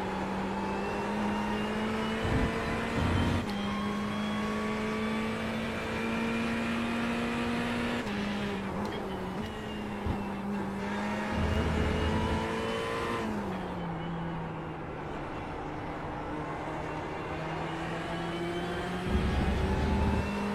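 Racing car engines in a video game at the Hungaroring, including a Ferrari, drone and rev loudly and steadily, with pitch rising and falling through gear changes and cars running close together throughout.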